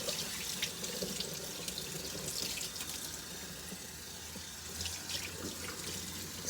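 Tap water running into a sink while brined chicken is rinsed under it, a steady splashing hiss with faint shifts as the stream hits the meat, close and moderately quiet, no talking.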